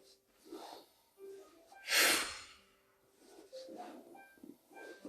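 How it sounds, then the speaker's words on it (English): Loud, close breaths during an exercise routine, with one strong forceful exhale in the middle and softer rhythmic breaths around it. "And again, I'm breathing loudly"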